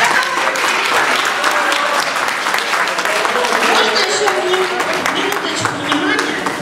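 A concert audience at a talent show gives sustained, dense applause, loud and close, with many hands clapping together throughout.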